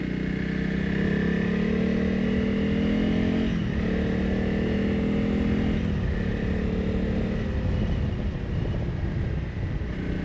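A new motorcycle cruising steadily along a path at around 60 to 70 km/h, its engine holding a continuous, loud drone with mild pitch shifts and no voices over it.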